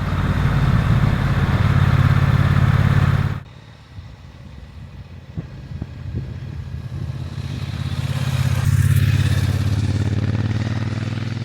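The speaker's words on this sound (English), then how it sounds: "So this is a Triumph Bonneville T120 Elvis Presley edition, limited to 925 bikes worldwide." A Triumph Bonneville T120 Elvis Presley edition with a 1200cc parallel twin runs close and loud, a deep throbbing idle that drops away abruptly, then settles back into a steady rumble with some clatter.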